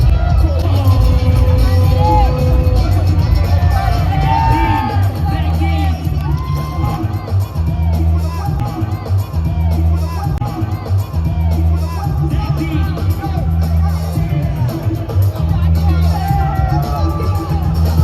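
Audience at a World Bboy Classic Asia Final 2025 breakdance battle cheers and shouts in a steady, loud crowd roar, with scattered whoops over a thumping bass-heavy music beat throughout.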